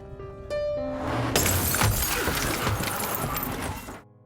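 A movie sound effect of a car crash, where one car slams hard into another. A heavy impact with loud shattering glass and scattering debris lasts about three seconds and then stops suddenly.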